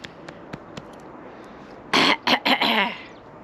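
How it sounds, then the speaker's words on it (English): A person clears their throat close to the mic with a run of rough, rasping bursts, three or four in quick succession. A few faint clicks come before it, and no one speaks. "Let me just clear my throat."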